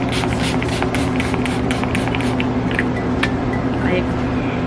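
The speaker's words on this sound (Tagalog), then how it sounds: "Ito yung una kong sinispray, yung aking Fresh Skin Love Argan Oil in water" Fresh Skin Love Argan Oil in water face mist sprayed in a rapid series of short, close spritzes over a steady low background hum. The spritzes thin out toward the end.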